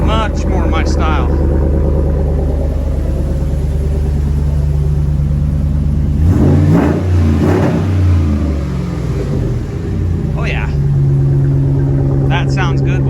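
Ram 1500 pickup from 2013 with a Magnaflow muffler delete, its engine idling with a loud deep rumble, then blipped into two or three throaty revs before settling back to idle, heard up close.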